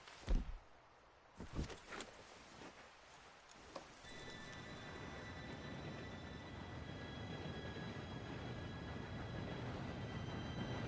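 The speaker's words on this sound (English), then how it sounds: "Train should be here any minute" Train approaching in the video game Red Dead Redemption 2: a few scattered thumps and clatters at first, then a steady rising rumble with a faint high whistle-like tone that grows and continues to the end.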